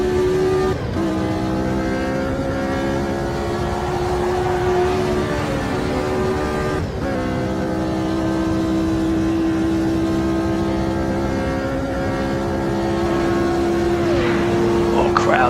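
A 1970 Formula 1 race car engine in a racing video game on the Spa Francorchamps long circuit, a steady loud high whine holding pitch with brief dips at gear changes, as a commentator talks throughout.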